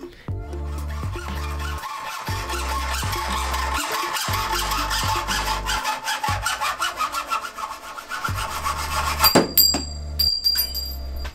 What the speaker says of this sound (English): I have two new hacksaw blades that were perfect for slicing through the 3 to 6 millimeter metal that are my handlebars